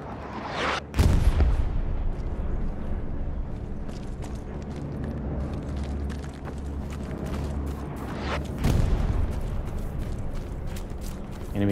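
Bombing run explosions in Hell Let Loose, two heavy booming blasts several seconds apart over a steady low rumble of battle noise, loud and close.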